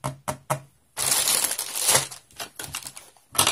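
Scissors snip and slice through fabric during a home craft project: a few short, crisp cuts, then a longer rustling cut, and a final snip, close and fairly quiet with no talking.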